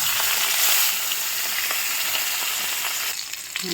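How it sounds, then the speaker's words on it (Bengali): Small fish drop into hot oil and fry with a loud, continuous hiss and crackle that eases slightly toward the end, with a faint clatter near the close. "তেল গরম হয়ে গেছে, তেলের মধ্যে ছেড়ে দেব।"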